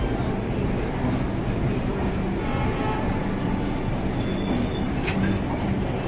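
A Garib Rath express train rolls out of Kanpur Central with a steady, loud rumble of wheels and carriages, and a faint squeal rises briefly near the end.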